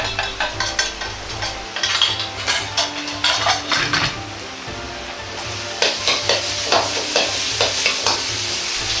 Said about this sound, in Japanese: ここから火力を上げて混ぜ合わせるように炒めます。